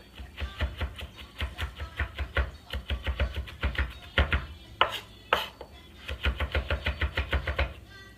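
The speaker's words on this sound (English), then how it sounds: "So we have minced our garlic to a degree." Knife chopping and mincing garlic on a cutting board, a fast run of sharp, close, rhythmic taps in bursts, pausing briefly before another steady flurry of chops.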